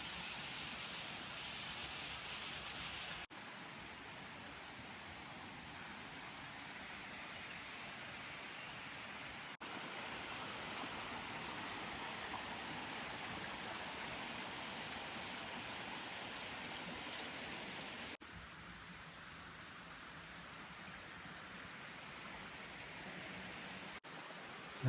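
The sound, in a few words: small stream flowing on Brahmagiri trek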